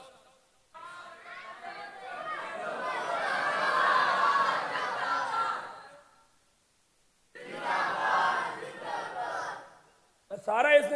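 A large religious gathering roars back a chanted slogan in two loud group bursts separated by a pause, with a single voice starting up again at the very end.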